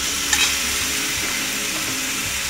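Spice paste (masala) with a splash of water sizzles steadily in a hot pan while being stirred and sautéed for a jackfruit and prawn curry, a dense, close, continuous frying hiss with a brief clink near the start.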